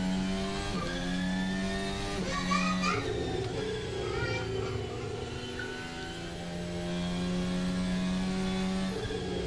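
An F1 race car in a video game runs a fast lap. Its engine holds a steady high whine, and the pitch rises and falls through the gear changes and corners.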